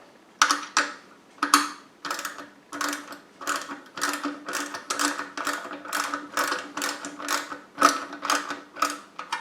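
A ratchet clicks in a steady, repeated rhythm while tightening the bar on a Powertec 8-inch slow speed bench grinder, each stroke producing a crisp metallic burst, close and clear with no talking.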